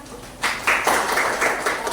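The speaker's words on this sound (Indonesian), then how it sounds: "tepuk tangan dulu untuk mereka." A university class breaks into brief applause, a burst of many hands clapping that starts abruptly and carries on evenly for over a second.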